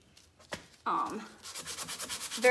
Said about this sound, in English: You don't need rough sandpaper for the mud. Trying to hold it flat so I get a nice straight edge.